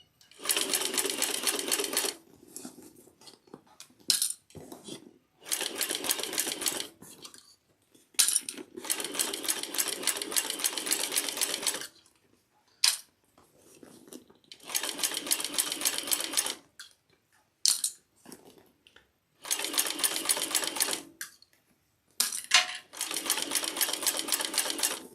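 A heavy duty cylinder arm sewing machine stitches in repeated bursts of fast rattling, each lasting a few seconds, separated by pauses with small clicks and handling sounds, close and fairly loud.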